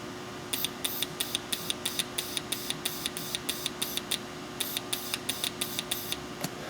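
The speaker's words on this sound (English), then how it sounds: "if I just blow into it and I energize it" A Chevy 5.7L Vortec fuel injector is energized repeatedly while air is blown through a vacuum tube into it, giving a rapid, evenly spaced series of sharp mechanical clicks, close and crisp, with a short pause partway through.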